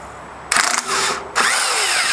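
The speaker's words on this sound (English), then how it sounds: "Now I will detach the brake line from the suspension by removing this bolt." Working on a car's CV drive axle job, a power tool removes the bolt that holds the brake line to the suspension, giving two loud, close whirring bursts with a brief pause between them.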